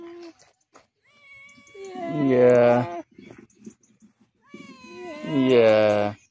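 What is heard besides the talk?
cat meowing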